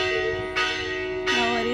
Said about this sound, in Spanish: Y las campanas nos reciben.